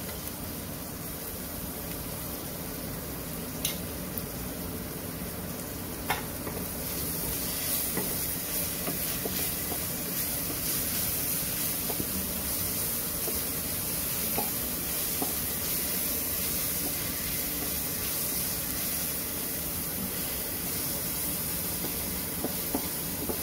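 Crushed chili and garlic paste frying in a pan, a spoonful of it, gives a steady close sizzling hiss that runs unbroken and grows slightly louder partway through, with no voices.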